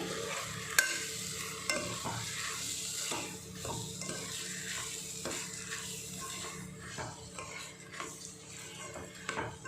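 Rice being added to a pulao pan and stirred, with repeated metal scrapes and clinks of a spoon against the pan over a gentle frying sizzle, close and without speech.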